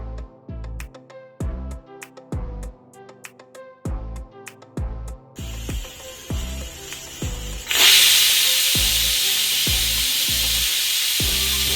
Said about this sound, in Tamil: இப்போ இதை 2 விசில் விட்டு எடுத்துக்கலாம்